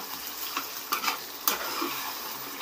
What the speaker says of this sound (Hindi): अगर इसको फिर भून लीजिए फ्रेश क्रीम डाल के